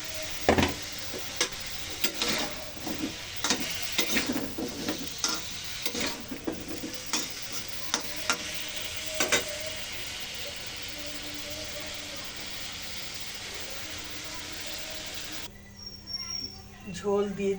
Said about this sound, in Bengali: এবার আমি এর মধ্যে কুমড়া দিয়ে দিলাম।